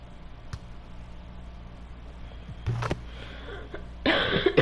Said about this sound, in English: Sorry guys, I have a cough.